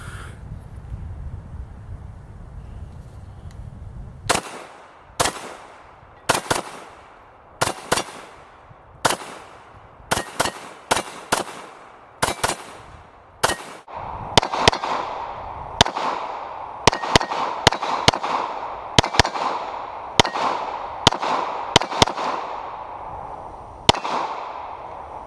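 A Canik TP9SA 9mm handgun fires at steel plates outdoors, sharp shots ringing out one after another in an irregular series, some quickly paired, loud and close with brief echoes.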